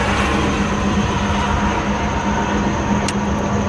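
Traffic roaring past on the turnpike beside a stranded car, a loud, steady rushing rumble that fills the moment with no voices over it.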